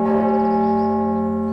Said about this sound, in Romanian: clopot, lui Ștefan cel Mare